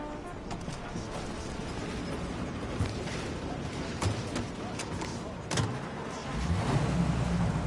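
A car idling and moving in the 1930s-era Mafia game: a steady low engine rumble with a few faint clicks and thumps, rising louder toward the end as the vehicle pulls away.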